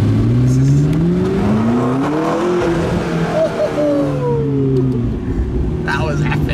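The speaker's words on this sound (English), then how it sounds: "We're gonna go through a little tunnel." A car drives at speed through a short road tunnel, its engine note rising and falling loud and close with a hollow echo, while voices talk over it.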